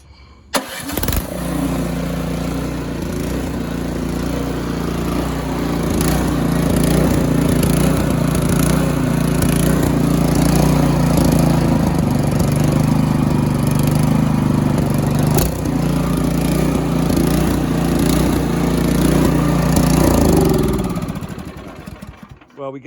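A Troy-Bilt Storm 2620 snowthrower with an MTD Powermore engine runs close and loud for about twenty seconds after starting, its carburetor hunting so the speed surges and sags unevenly, then cuts off.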